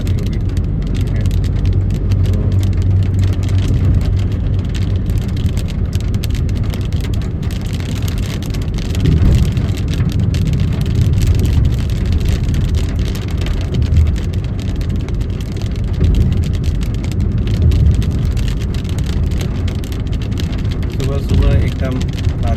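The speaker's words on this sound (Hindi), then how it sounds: "और बारिश शुरू हो गई" Rain falls steadily on a car driving to the office on a wet Delhi morning, a constant hiss over the low rumble of the engine and road that continues throughout.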